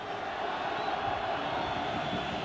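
A broad, steady roar from a large football stadium crowd at a 1986 World Cup match between West Germany and Morocco, loud and unbroken.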